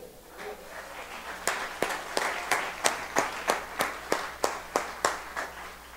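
Rhythmic hand clapping from a church congregation, about a dozen sharp claps in steady time, starting softly and then growing regular and fairly close, with no voices over it.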